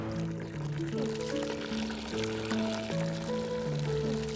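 Tap water runs steadily into a bucket in a continuous pour that stays at an even level under light background music.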